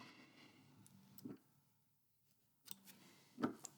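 Scissors cutting fly tying material for a leech pattern, a few separate crisp snips close by with quiet pauses between them, heard alone without talking.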